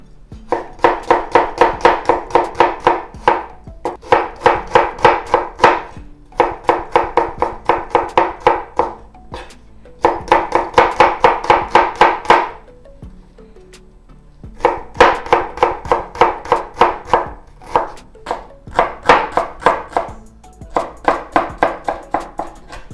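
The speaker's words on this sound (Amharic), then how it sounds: "በመቀጠል ሽንኩርት ከመክተፍ ነው የሚጀምረው" Onions being chopped with a knife on a board while preparing an Ethiopian beef alicha stew: steady, rapid bursts of close, crisp knife taps in runs of a few seconds, with brief pauses between runs.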